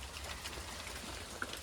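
Rain falling outdoors during a DIY composting toilet build, a faint, even patter with scattered droplet ticks over a low rumble, no speech.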